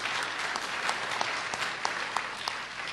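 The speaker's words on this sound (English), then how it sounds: "let's give them a round of applause first" An audience at a public forum on light rail in Pinellas County gives a round of applause, a dense steady wash of clapping with a few sharper claps standing out, sustained for the whole stretch.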